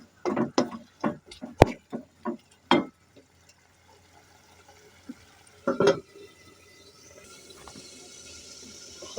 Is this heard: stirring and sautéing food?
yes